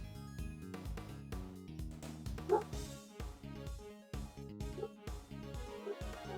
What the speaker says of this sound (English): Okay, why is she barking?